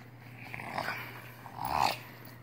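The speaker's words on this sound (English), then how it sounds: "What are you growling at her?" A dog gives low, rumbling growls in two swells, the second louder, fairly close over a faint steady hum.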